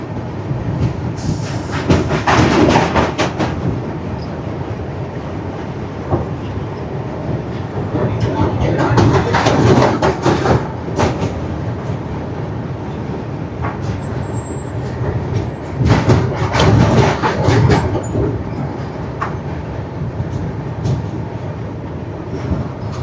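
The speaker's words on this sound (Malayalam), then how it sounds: "അതിലൂടെ ട്രെയിൻ പോകുന്നു." Himsagar Express crossing the Krishna river bridge at Vijayawada, a continuous heavy rolling rumble with bursts of louder rattling and clatter swelling and fading, heard from on board, with a voice speaking at times.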